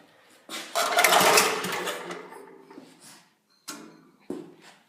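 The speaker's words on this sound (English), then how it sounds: "give it a couple pulls, and we'll see if she'll start up" Vintage Troy Bilt Horse tiller engine being pull-started with the gas off, one long rasping recoil pull with brief sputtering turnover, then two shorter pulls after pauses, close by and without speech.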